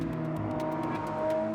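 Lamborghini Aventador S V12 engine running with a steady, tonal drone and a slight rise in revs toward the end, close and unaccompanied.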